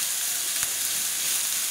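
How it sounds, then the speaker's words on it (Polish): Chopped onion and garlic fry in a pan for a stuffed cabbage roll filling, giving a steady, close, even sizzle with no voices. "Z czosnkiem dosłownie chwileczkę i już dorzucam cebulkę. Będę podsmażała do momentu zeszklenia"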